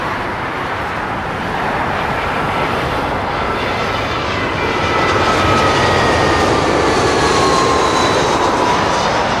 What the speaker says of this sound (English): British Airways, A319 from Hamburg.